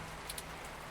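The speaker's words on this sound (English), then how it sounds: "Raining." Rain ambience from the video game 2064: Read Only Memories, a soft, steady patter of falling rain with a few brief higher ticks, faint and continuous with no voices.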